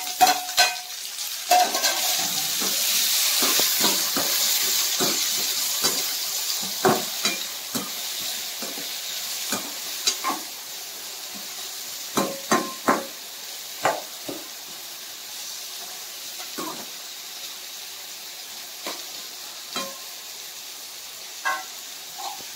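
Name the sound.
tomato added to onions frying in a pan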